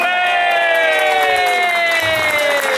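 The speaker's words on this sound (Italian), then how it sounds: "Siamo pronti per iniziare questa grande puntata facendo l'applauso alla nostra orchestra base" A crowd cheers and whoops loudly at a gala of dance orchestras, with applause mixed in, while a sustained musical fanfare from the orchestra plays over it.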